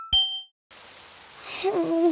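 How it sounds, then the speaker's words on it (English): Steady soft rain falls outside in an animated children's show, a hissing wash that begins after a bright bell-like ding and a short silence, with a voice rising near the end. "Oh, it's raining outside."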